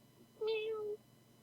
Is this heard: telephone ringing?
no